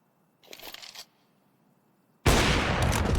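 A Counter-Strike 2 pro match at PGL Astana 2025 produces a short muffled burst of gunfire, a pause of near silence, then a loud sustained roar of close firing.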